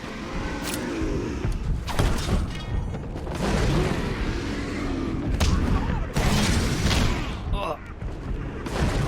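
Booming explosions and gunfire-like blasts from the Batman: Arkham Asylum video game, dense and loud throughout, with repeated heavy bursts layered under ongoing talk.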